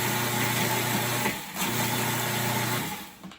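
A food processor pulses cookies into fine crumbs, the loud motor whirring in two steady bursts with a short break between them and a clear stop at the end.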